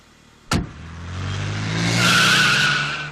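A car in a Malayalam comedy scene pulls away hard. A sharp knock comes first, then the engine swells and the tires squeal loudly and steadily, close by and with no talking.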